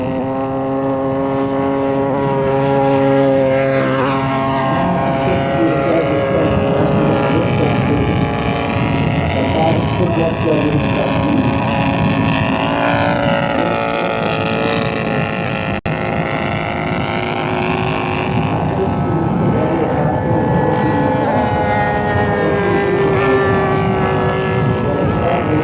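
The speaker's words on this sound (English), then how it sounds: "This 88-inch wingspan Harvard was built also by Hermann Grobler" An 88-inch wingspan scale model Harvard aircraft drones loudly overhead, its engine pitch rising and falling with Doppler sweeps as it passes repeatedly at an airshow.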